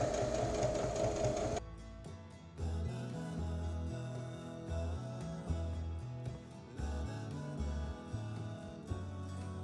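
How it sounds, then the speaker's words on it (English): A sewing machine stitches a cosplay bandage piece onto a face mask, running in short stop-start bursts of rhythmic mechanical chatter, close and moderately loud, after a brief louder rustle at the start. "now I can sew it down to the mask"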